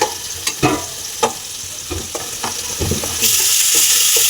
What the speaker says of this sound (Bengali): কপিগুলো একটু ভেজে নেব।